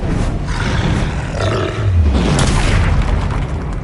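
An Incendio fire spell in Hogwarts Legacy lets out a loud, roaring whoosh of flame with a deep rumbling body that swells midway and holds steady to the end, with no talk over it.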